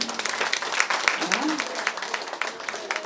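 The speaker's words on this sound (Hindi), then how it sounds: "अपने लिए ताली बजाओ" An audience at a Brahma Kumaris Diwali festival gathering in Bahadurgarh claps for themselves, a dense, sustained burst of many hands at moderate distance, with a voice briefly heard over it.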